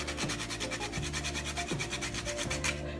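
Whole nutmeg rubbed by hand across a kitchen grater while making zucchini bread, a close, steady rasping in quick repeated strokes with no talking.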